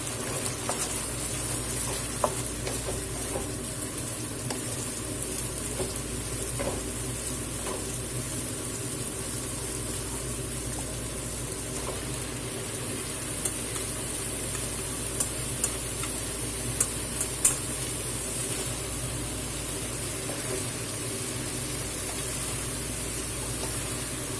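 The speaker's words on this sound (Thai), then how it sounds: "ผัดฟักทองใส่ไข่จ้าพี่น้อง ใส่ไข่แล้วก็ใส่หมูจ้า" Pumpkin stir-frying with egg and pork in a pan, a steady continuous sizzle with occasional light ticks and scrapes throughout, no talking.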